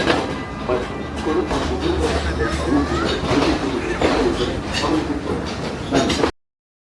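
A passenger train on the line to Ella, Sri Lanka, sits held at Great Western station, its low rumble and carriage clatter mixing with nearby chatter before the sound cuts off abruptly.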